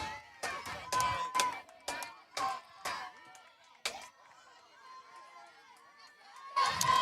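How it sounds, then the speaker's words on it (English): Cheering and rhythmic shouts from a high school softball team's dugout at a game, a run of sharp chant-like bursts followed by quieter chatter, then another loud burst near the end, all heard at a distance. "Lots of noise and lots of cheering going on over in that Raider dugout right now"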